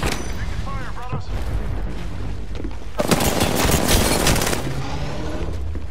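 Gunfire in a multiplayer shooter game: scattered shots under a player's voice, then a loud, dense burst of rapid fire from several guns over the last few seconds.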